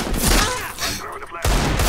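Gunfire in a shooter video game: a quick run of sharp, loud shots in bursts, a short lull, then another burst.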